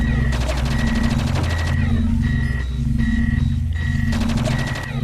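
Rapid automatic gunfire blasting at leeches in the video game Project Eden, loud close bursts of repeated shots separated by brief pauses, with game tones ringing beneath.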